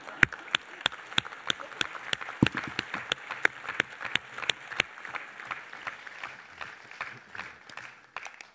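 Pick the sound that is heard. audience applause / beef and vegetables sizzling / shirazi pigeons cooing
audience applause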